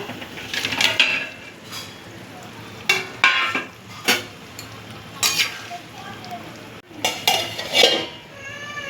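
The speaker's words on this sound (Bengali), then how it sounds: "ঝোল এখানে ফুটে গেছে, ভেজে রাখা মাছগুলো এখন দিয়ে দেব।" Fried rohu fish pieces go into a thin, boiling fish curry in a home kitchen pan, with irregular bursts of sizzling, utensil scrapes and clinks of metal against the pot, moderately close.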